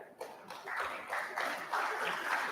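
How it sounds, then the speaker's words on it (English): Applause at a school honors assembly, a moderate burst of many people clapping with pulsing swells over a couple of seconds, sounding somewhat distant. "Please hold your applause until the end"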